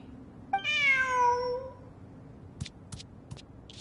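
A cat in a video game lets out one clear, drawn-out meow, followed by a few faint short clicks and taps in an otherwise quiet scene.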